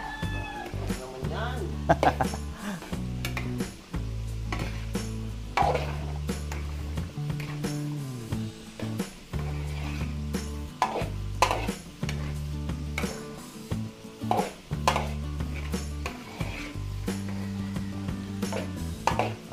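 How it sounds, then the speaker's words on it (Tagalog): A dish for a birthday celebration is stirred in a big cooking pot, the utensil scraping and clattering in repeated strokes over a bubbling simmer while people talk. "Haluin lang po natin."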